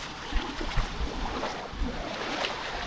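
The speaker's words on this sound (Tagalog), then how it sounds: "Sarap ng tunog, tingnan niyo yung alon." Ocean waves wash onto the shore at Boracay in a steady, close rush of surf with soft swells and wind, continuous and without talk.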